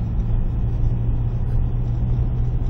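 Car driving on the Cebollares track near Rota, a dirt road with loose sand. A steady, close engine rumble with road noise runs continuously and loud, with no voices.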